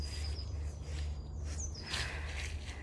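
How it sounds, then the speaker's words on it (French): Birds chirping and singing in the open outdoors, short high tweets and trills scattered over a low steady background rumble, moderately distant. "écouter ces oiseaux qui chantent, ils ont l'air bien heureux"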